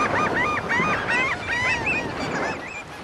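Flocks of gulls and shorebirds gather on an ocean beach, their loud overlapping honking and squawking calls rising one after another in a dense, continuous chorus over steady surf noise.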